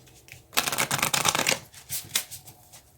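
A deck of Moonology oracle cards is shuffled close up in a quick burst of riffling, papery flutters, followed by a few softer separate card slaps and taps.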